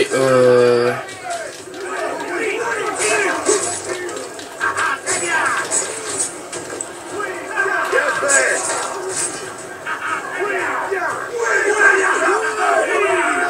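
Crowd of non-player characters in Assassin's Creed Revelations yelling and shouting continuously, a busy game soundscape of overlapping loud voices and cries throughout, with no clear individual talk standing out.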